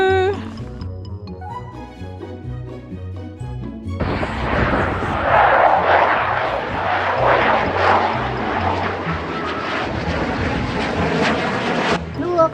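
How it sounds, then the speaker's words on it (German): A German military (Bundeswehr) jet roars in loudly and holds a dense, powerful rush of engine noise for several seconds before cutting off, following a quieter opening. "der flüchtende Düsenjet von der Bundeswehr"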